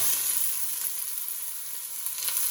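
Vegetables sizzle and crackle steadily in hot olive oil in a pan, a bright, continuous frying hiss close by.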